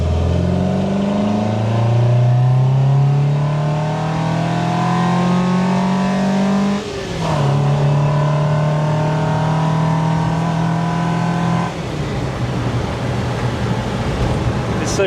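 A Volvo Amazon's engine revs hard while driving, rising in pitch through the gears with two clear shift drops. The tone is loud, droning and close, like sitting inside the car.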